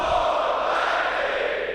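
Canned crowd reaction effect on a sports talk show: a short, steady burst of crowd roar and cheering, loud and continuous from start to finish.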